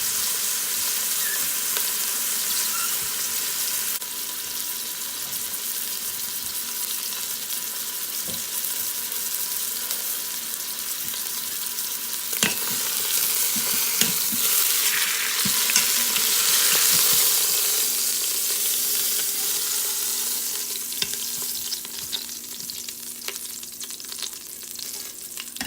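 Food sizzles and fries steadily in an Instant Pot on the sauté setting while a piece is cooked on its second side for a keto meal, a continuous close hiss with occasional louder crackles and spatters, no voices.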